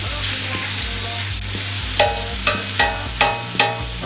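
Food browns in a hot skillet with a continuous close sizzle. In the second half a utensil scrapes and stirs in five evenly spaced strokes.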